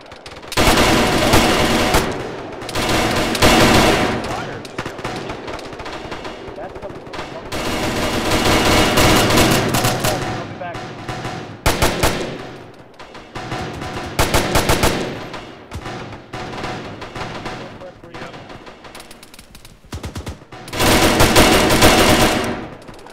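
In the Arma military game, gunfire comes as repeated long bursts of automatic fire, loud and close, with brief gaps between volleys. Voices talk quietly in the background.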